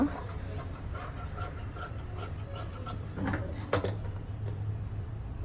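Blouse sleeve fabric being cut up close, a soft continuous rasping with a couple of sharper snips toward the end, no voices.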